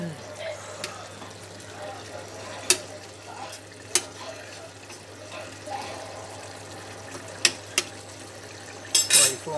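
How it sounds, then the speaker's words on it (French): A spoon stirs a tablespoon of vinegar into a simmering meat filling for pastels, with light scraping and several sharp metallic clinks against the pot, and a low murmur of voices in the background. "Une bonne cuillère à soupe de vinaigre. Et on remue."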